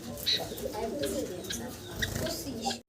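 Doves at a pigeon dealer's coo softly in short repeated calls, close by, mixed with people talking over them.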